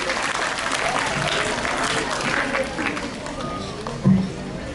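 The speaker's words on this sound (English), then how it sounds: "Can we have a huge round of applause for them?" An audience claps loudly and continuously for a team at a school interclass patriotic quiz competition, with faint chatter mixed into the crowd noise.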